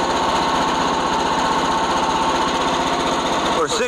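A sawmill, a Frontier OS27, runs continuously and loud, its engine and blade droning with a rapid rhythmic chatter as it cuts boards from a black oak log, steady from start to finish.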